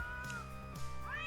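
A cat gives a couple of quiet, drawn-out meows, one ending on a rising pitch, heard faintly indoors over a low background hum.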